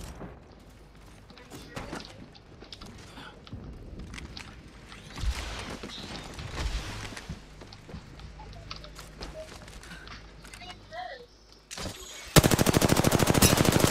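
Apex Legends duos match gunfire: bursts of rapid shots crackle close by amid scattered clatter and footsteps, ending in a loud sustained automatic burst.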